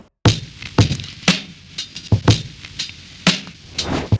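A soulful hip-hop drum loop with soft-clipped drums and added knock plays alone, its punchy kick and sharp snare hits landing in a steady pattern, louder and crisper than a dry beat.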